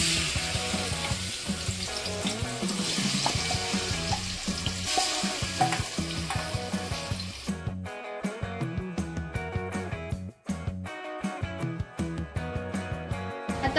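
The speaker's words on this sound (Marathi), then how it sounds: "आता आपण तुपामध्ये चिकन ऍड करूया।" Chicken pieces go into ghee in a large pot for a dum biryani, setting off a loud, dense sizzle that dominates the first half, then drops to a quieter, more uneven background of cooking sounds.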